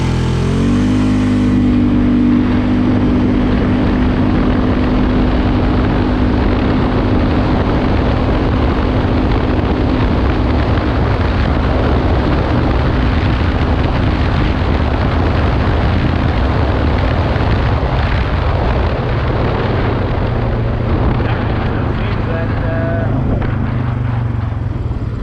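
A Polaris Sportsman 450 ATV on 28-inch Mega Mayhem tires makes a full-throttle top-speed run, its engine roaring steadily and loudly throughout, close and unbroken, with a little pitch change as it climbs.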